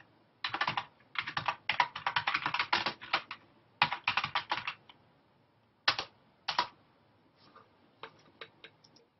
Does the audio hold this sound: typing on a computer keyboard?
yes